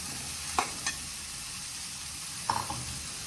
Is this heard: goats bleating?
no